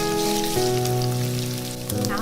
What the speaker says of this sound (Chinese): 锅里油温热了之后呢，把肉末放进来炒香，接着把蒜蓉跟辣椒放进来